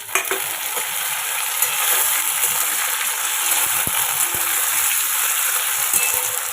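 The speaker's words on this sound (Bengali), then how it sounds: "পেঁয়াজটা হালকা হালকা ব্রাউন হয়ে গেছে তো আমি টমেটো দিয়ে দেবো" Tomato goes into lightly browned onions frying in a pan, giving a loud, steady, close sizzle throughout with a few sharp clicks and taps scattered over it.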